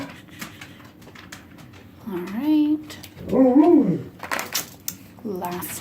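A dog whimpers indoors in a house with four dogs, giving two drawn-out, wavering whines in the middle, then a shorter whine at the end. Scattered light knocks and shuffles fill the gaps.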